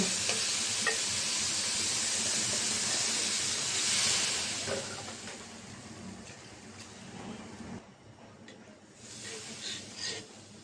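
Broth poured into a pan of sizzling curry gives a steady, loud hiss and bubbling sizzle that gradually settles and softens toward the end, close up and with no voices.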